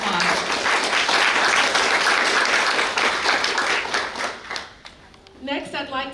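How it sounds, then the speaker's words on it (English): An audience at a community talk on parks and inclusion claps loudly for several seconds, the applause thinning and fading out, followed by a voice starting to speak. "Let's give her a round of applause."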